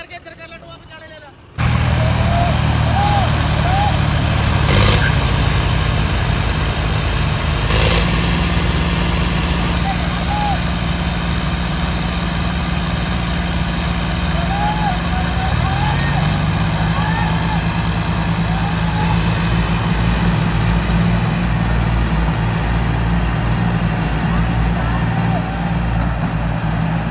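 A tractor engine roars under heavy load as it strains to drag a stuck trolley through a waterlogged field, a loud, steady diesel drone running almost continuously, with people talking intermittently over it.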